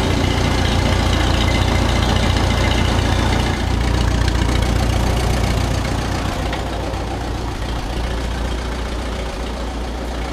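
A loud, close Oliver 66 tractor engine with carburetor and electrical trouble runs unevenly, a steady heavy rumble with rough, knocking irregularity and no voices over it.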